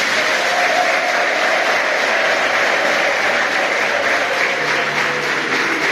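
A church congregation applauding during a Catholic priest's sermon: steady, dense clapping from many hands that fills the room without letup, with a faint crowd murmur beneath.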